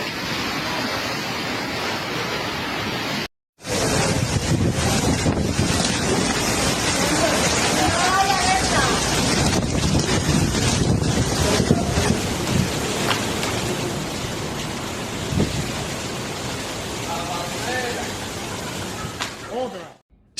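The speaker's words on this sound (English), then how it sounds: "In Andalusia, strong wind gusts and heavy rains are felt in Ayamonte" Storm Claudia lashing Ayamonte, Andalusia, with strong wind gusts and heavy rain: a loud, continuous roar of wind and rain that cuts out briefly early on, then returns at full force and holds steady throughout.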